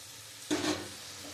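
Bitter gourd with mustard spice paste in a pan, one brief scrape and sizzle burst after a quiet start, fading into a low simmering hiss, faint and close.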